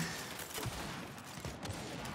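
Gunfire from a weapon in Gears 5 sounds as a few sharp reports over a steady wash of game noise, fairly quiet overall.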